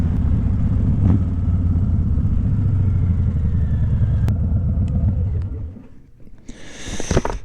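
2025 Harley-Davidson Fat Boy V-twin rumbling steadily at close range while ridden through corners, then the engine note drops away and fades, with a few clicks and a rising noisy rush near the end.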